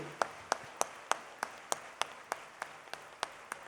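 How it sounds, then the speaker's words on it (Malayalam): Steady, evenly spaced hand claps from a church congregation during worship, about a dozen sharp beats in a regular rhythm, faint and somewhat distant with no voices over them. "ഈ കൈയടി പോരെന്നേ, കർത്താവിനൊരു കൈയടി കൊടുത്തേ"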